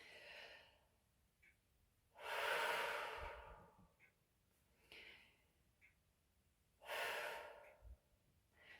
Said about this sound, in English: deep, full breath.